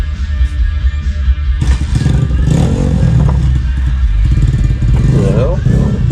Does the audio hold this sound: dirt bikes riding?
yes